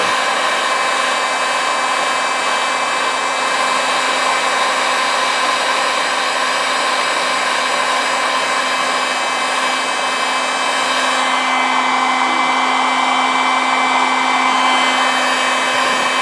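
A heat gun blowing hot air, a loud steady whooshing roar with a constant motor hum, running uninterrupted up close.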